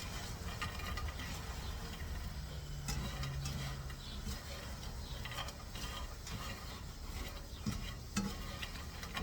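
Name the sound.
tossing garlic sourdough croutons in a pan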